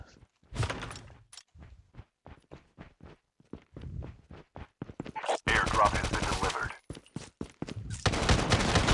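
Gunfire in the mobile shooter Call of Duty Mobile: a string of sharp single shots, then dense rapid automatic bursts toward the end, loud and close, with footsteps between.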